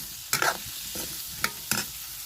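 Bitter gourd sautéing in a kadhai, with a few scraping stirs of a spatula and a steady low sizzle underneath, close and fairly quiet, no voices.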